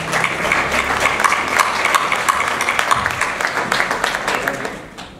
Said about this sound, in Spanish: Recibimos a Alfonso con un caluroso aplauso.